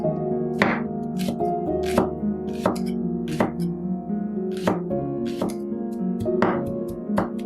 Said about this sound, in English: Chop the white part finely.